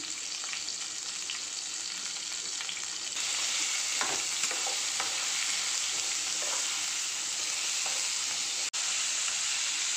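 Tomato, onion, dried red chilli, tamarind and garlic sautéing in a pan with a little salt, a steady hiss of frying that grows slightly louder partway through, with a few light stirring scrapes and a sharp click near the end.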